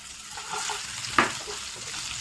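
Chopped onion drops into hot oil with cumin seeds, giving a steady frying sizzle with one sudden louder crackle as it hits the pan, then continuous hiss.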